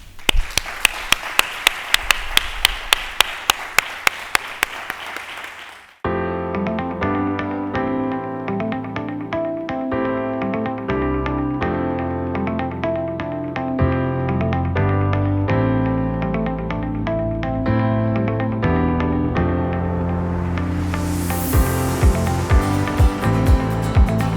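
At a Breast Cancer Day event held by a local association with the town council, an audience claps loudly in a quick, rhythmic unison beat for several seconds, then stops abruptly as music takes over.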